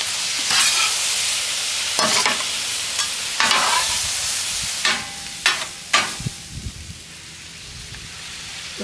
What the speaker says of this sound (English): Now, let's fold it together. We'll let it cook for a while and then we'll fold the cheese in.